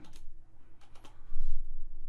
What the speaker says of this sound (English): That was shift in the number 6 on my keyboard,